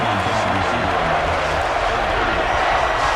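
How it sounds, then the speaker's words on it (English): Dense stadium crowd roar from a sellout college football game in NCAA Football 11, Ohio State against Michigan, a steady loud wash of noise throughout with no clear breaks. "The sellout crowd is really making a difference now as these guys can't even call the play"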